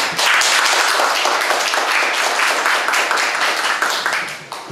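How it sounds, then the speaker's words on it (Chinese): Audience at an evening philosophy talk in Taichung applauding to welcome a speaker, a dense sustained wash of clapping that stays loud and close from start to finish, with no voices over it. "我们热烈掌声欢迎他"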